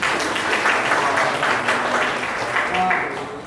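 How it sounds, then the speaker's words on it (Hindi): A crowd at a Buddha Jayanti lecture gathering in a hall claps loudly and continuously, a dense wash of applause that holds steady before easing at the end, with a voice faintly underneath. "तो सब लोगों ने उनके लिए तालियां बजाना है।"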